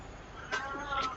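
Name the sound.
cat meowing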